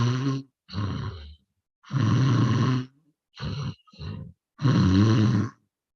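A voice imitates ordinary snoring in a clinical demonstration: five loud, throaty, rasping snore sounds, each about half a second to a second long, separated by short silent pauses in an even rhythm, with no other talk.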